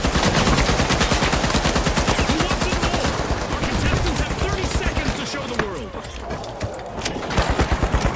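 Rapid bursts of automatic gunfire from the shooter video game The Finals, dense and loud throughout, with short pauses and a voice talking over the shooting.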